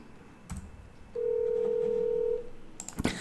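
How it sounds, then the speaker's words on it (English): A SIP phone places a call through an OpenSIPS server, giving one steady tone of about a second and a half between brief clicks and a short burst of noise near the end, with no talking. "Now Bob can call Alice."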